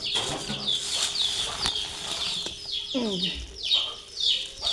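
Chickens squawk and cluck repeatedly at close range as they are let out and fed, with wings flapping and some rustling among the birds.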